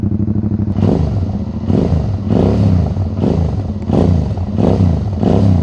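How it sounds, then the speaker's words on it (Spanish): A Suzuki V-Strom 650 motorcycle with an aftermarket exhaust revs loudly in neutral in repeated throttle blips, a deep rumbling exhaust rising and falling about once per second, close up. "Ese es el sonido de la moto con ese escape."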